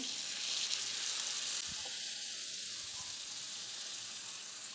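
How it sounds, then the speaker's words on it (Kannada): Fish fries in oil in a hot iron pan with a steady, bright sizzle, broken by a few faint knocks. "ಹಂಚು ಬಿಸಿಯಾಗಿದ್ದ ಕೂಡಲೇ ಇಟ್ಕೊಂಡಿದ್ದಂಥ ಫಿಶ್ನ ಇದಕ್ಕೆ ಸೇರಿಸ್ಕೊತಾ ಇರೋದು."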